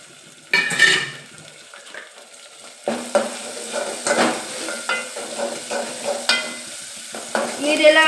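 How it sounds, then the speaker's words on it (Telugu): A small tomato drops into a pan of frying chicken curry, bursting into a sizzle, followed by intermittent stirring scrapes and clinks of a utensil against the pan, close and moderately loud. "ఒక చిన్న సైజు టమాటా వేసుకుంటాను ఫ్రెండ్స్."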